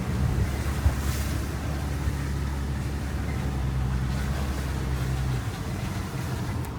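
A Range Rover drives through wet, watery terrain, with a steady low engine hum under a continuous rushing wash of water and wind noise. The hum drops away toward the end.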